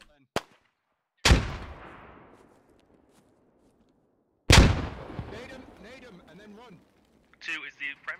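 Incoming grenades blast in the video game SquadOps: two sharp explosions a few seconds apart, each with a long decaying rumble, followed by scattered clatter and brief voice-like bursts, plus a small pop at the start.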